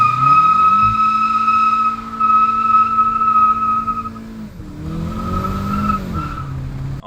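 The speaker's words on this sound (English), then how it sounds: "I was doing burnouts." A stock-tuned MK7.5 Volkswagen GLI does a burnout on its stock tires, engine holding a loud steady rev under a sustained high tire squeal, then dipping and climbing again as the skid continues.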